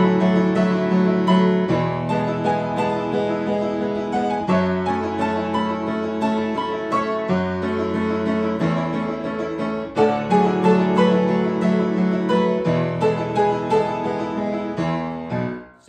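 Piano playing a song from Your Lie in April at a slow tempo, full sustained chords and melody rolling continuously, close and clear, ending with a fade as the last chord is released.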